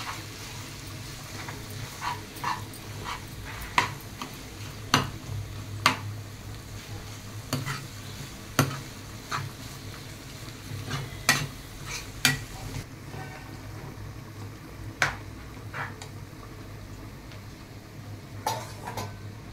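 An egg sizzles in spiced oil in a pan while a utensil chops and scrapes through it, giving sharp metallic taps at irregular intervals over a continuous soft frying hiss.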